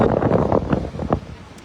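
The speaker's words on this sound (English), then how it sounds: "it's just too windy" Wind buffets a microphone outdoors at a tech racing event, a steady low roar with gusty swells that runs throughout and masks other sounds.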